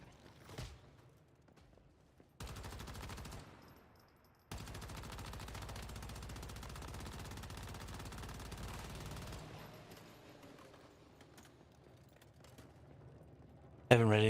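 Automatic weapon fire at a boss in the survival shooter Once Human, long sustained bursts of rapid shots with a short pause between them, then fading into quieter background sound, with a voice speaking at times.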